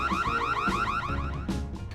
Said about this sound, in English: Fire alarm! Everyone out of the room!